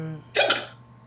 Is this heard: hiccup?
yes